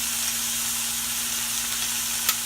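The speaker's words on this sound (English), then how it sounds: "just locking some of this juice in is all we're doing. Searing it up." Beef rump roast sears in a hot pan with a steady, dense sizzle that holds evenly throughout, broken near the end by one brief louder crackle.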